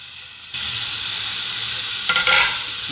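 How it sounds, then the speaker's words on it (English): Bacon hits a hot frying pan and bursts into a loud, close, hissing sizzle that holds steady, with a brief stirring scrape near the end. "listen to that sizzle. That's what you want."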